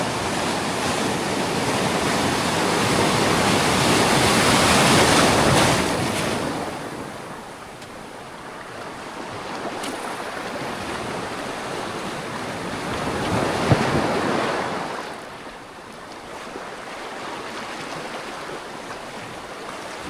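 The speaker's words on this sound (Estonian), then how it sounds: "Suured lained tulid järgi mulle." Big waves surge and crash onto an icy sea shore where the water deepens quickly, two loud swelling rushes of surf separated by calmer wash, with wind noise on the microphone and no talk.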